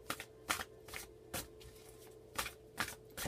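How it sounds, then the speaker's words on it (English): A deck of reading cards being shuffled by hand in about six quick, crisp riffling bursts with short pauses between, close and fairly quiet, with no talking. "I just want to give this a shuffle."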